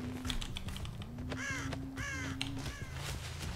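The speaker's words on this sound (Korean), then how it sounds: "또 까마귀 들렸어" A crow caws repeatedly in the horror game Dead by Daylight, several harsh calls in a row over a constant low background hum and faint clicking, fairly clear and close.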